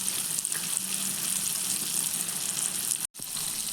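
Hot oil poured into a pan of Kerala fish curry sets off a continuous bright sizzle, steady and close, broken by a brief silent gap near the end.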